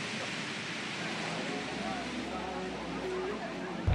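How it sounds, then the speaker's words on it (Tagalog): Rain falling with gusting wind makes a broad steady hiss and rush close by. A brief low thump comes at the end. "Sa ngayon po ay umuulan pa rin at umiihip pa rin ang hangin."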